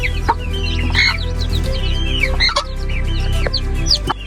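A hen and her newly hatched chicks, some of them black, clucking and peeping close by, with bright high chirps scattered over a steady low hum of background noise.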